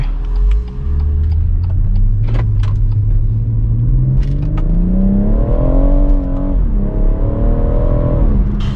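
BMW M140i launching hard with launch control, engine roaring as pitch climbs steadily through a gear with a brief shift dip, loud and close from inside the car.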